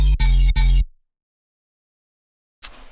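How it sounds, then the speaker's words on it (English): A synth sample generator gives a dubstep rhythm sound: three loud, bass-heavy, buzzing hits in quick succession, then silence, then a brief noisy tail. "This is like a dubstep sound, I don't know, rhythm sound generator thing now."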